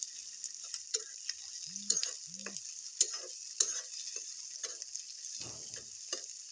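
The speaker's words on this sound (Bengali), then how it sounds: "তো আমি এখানে প্রথমে দিয়ে দেবো পেঁয়াজ কুচি, পেঁয়াজটাকে ভালো করে নেড়ে চেড়ে ভেজে নেব।" Chopped onion frying in a pan with a soft, steady hiss, broken by irregular spatula taps and scrapes as it is stirred, fairly quiet and close.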